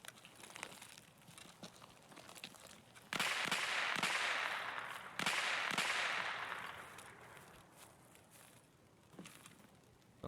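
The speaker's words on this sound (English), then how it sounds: "Sounds like an SKS" SKS rifle shots from another player in Escape from Tarkov, two sharp cracks followed by a long rolling echo across open terrain, moderately distant, with faint scattered pops before and after.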